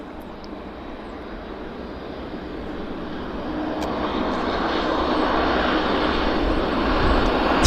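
A Q400 turboprop with large propellers passes at Vancouver airport during runway 26 operations, a broad steady roar that slowly swells louder over several seconds, with no voices.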